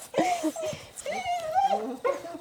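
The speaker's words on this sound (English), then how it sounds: "Can you go and see my dog so she doesn't break down the door?" A dog barks and whimpers from behind a door inside a caravan, with short yelps and drawn-out whines in quick bursts, fairly close and mixed with people talking.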